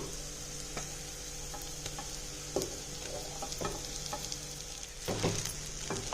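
Cooked rice is stir-fried in a pan with sautéed thuthuvalai leaves and garlic. A steady low sizzle runs under scattered scraping knocks of a spoon, with no voices.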